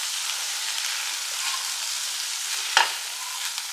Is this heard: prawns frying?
yes